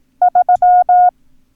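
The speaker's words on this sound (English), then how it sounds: "So we're going to introduce the number 3, which sounds like this." A steady electronic tone beeps out three short pulses followed by two longer dashes, a crisp Morse code pattern for the number 3, with no voices.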